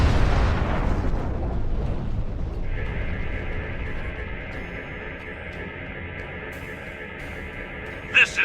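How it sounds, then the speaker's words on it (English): Enemy ships blow apart in Star Trek Online, a loud rumbling explosion that rolls and fades over several seconds into a steady humming drone, with a couple of short pops near the end. "Enemy ships destroyed."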